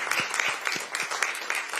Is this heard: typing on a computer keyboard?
no